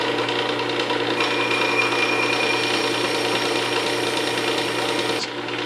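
A resin tool's bevel is sharpened on 400 grit in a steady, loud, continuous abrasive whir with a constant motor hum beneath it. It runs unbroken for about five seconds before easing off at the end.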